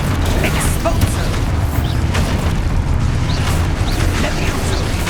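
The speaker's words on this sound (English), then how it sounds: "Expulsor" Expulso spell explosion in Hogwarts Legacy, a loud, sustained rumbling boom with crackling debris, dense low-end roar holding steady for several seconds.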